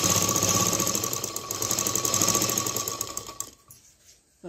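A sewing machine runs steadily as it stitches along both side edges of blouse fabric pieces, with a loud continuous whirring rattle that stops abruptly near the end.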